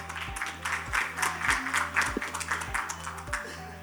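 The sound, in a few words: audience applause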